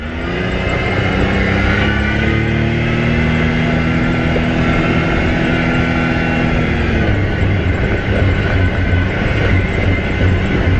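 A 2023 Can-Am Maverick X3 DS side-by-side running along a wet rocky trail, its engine a loud, steady droning roar with shifting tonal whine and constant rumble throughout, heard close and alone without talk.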